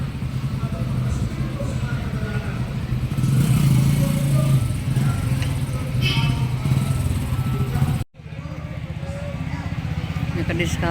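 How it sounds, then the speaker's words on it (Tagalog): Many motorcycles pass by near a covered court with Christmas decorations, a continuous engine rumble and whine with surges of revving, and a speaker talks over the traffic noise before a brief cutout. "Grabing mga motor dito, ang dami oh."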